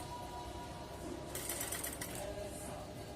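A sewing machine stitches a curved seam on a Rajputi kanchali blouse, its steady whirring hum rising into a louder, faster run midway through before settling again, fairly quiet overall.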